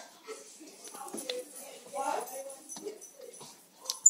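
A dog whimpers and yips in short, faint bursts over several seconds, close by, while a person talks over it in a casual outdoor barbecue setting.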